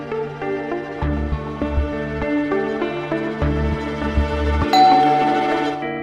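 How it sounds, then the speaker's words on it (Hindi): A doorbell rings with a melodic chime sequence, ringing tones repeating and overlapping, followed by a brighter higher ding near the end. "कभी दरवाजे की घंटी"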